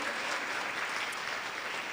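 An audience claps steadily at a Gen Z event featuring the Columbus Fury pro volleyball team, a dense, even wash of applause that holds at the same moderate level for the whole stretch, with no voices over it.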